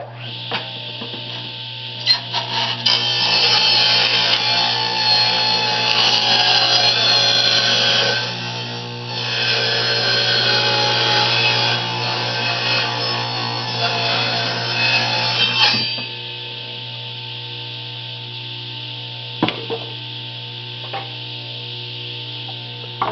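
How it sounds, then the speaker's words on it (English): A power saw ripping 6-inch wooden boards lengthwise for a bee hive body, a loud sustained cutting whine in two long passes with a brief dip between, then the motor quiets and a few knocks follow. "I'm going to rip two of my 6-inch boards down for that."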